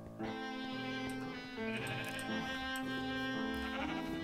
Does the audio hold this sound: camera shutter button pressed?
no